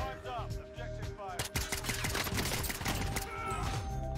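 Rapid automatic gunfire in the shooter game Warzone, loud bursts of close shots layered over game music and effects, with a busy, dense rattle throughout.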